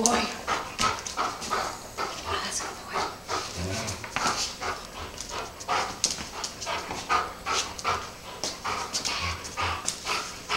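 An 80-pound Bernese mountain dog pants heavily and steadily while wrestling and playing up close, with occasional whimpers and rustling, as people talk nearby.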